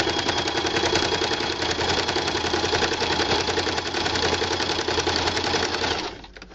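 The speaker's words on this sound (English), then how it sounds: "with the rough side of your Velcro, we're going to line up just about centered with that, right next to the red, and we're going to go through and do a straight stitch" A sewing machine straight-stitches Velcro onto a fabric bag, running loud and continuous with a rapid mechanical chatter for about six seconds before stopping.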